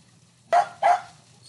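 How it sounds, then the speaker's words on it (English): A dog barks twice in quick succession, two sharp, loud, close barks over a quiet background. "listen to my dog bark"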